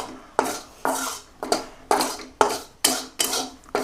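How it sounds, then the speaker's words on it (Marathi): A spoon scrapes and knocks against a pan in a steady rhythm, about eight firm strokes, while turmeric is dry-roasted until it turns black. "आता ही भाजायला लागलेली हळद बरं का चांगलीच."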